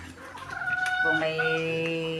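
Hens call loudly at close range, drawn-out tonal cackles layered over one another with no pause.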